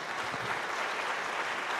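A church congregation applauding during a sermon, steady dense clapping that fills the whole stretch evenly, with no voice standing out.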